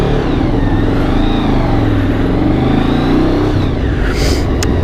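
Winter bike motorcycle engine running steadily while riding on a road, loud and continuous throughout with rising and falling revs, with wind noise and no talking.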